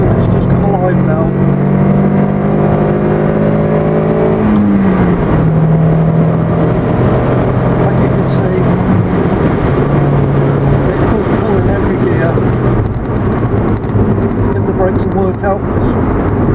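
A Toyota Yaris T Sport TTE engine revving up in third gear on a national speed limit road, heard from inside the car, with a rising drone and a gearshift dip, under continuous talk.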